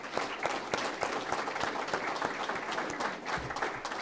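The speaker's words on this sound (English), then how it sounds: "I want to one more time give them a round of applause for their effort." A ceremony audience applauds teachers at a learning center dedication, with dense, fairly loud clapping and a few distinct sharper claps standing out, continuing without speech.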